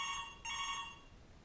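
A phone rings indoors with a bright electronic ringtone, two bursts separated by a short gap, then fading slightly, with no talking over it.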